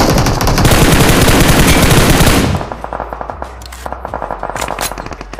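Loud, sustained automatic gunfire in the game BGMI on the Miramar map, a dense burst for a couple of seconds that drops to quieter, more distant rapid shots.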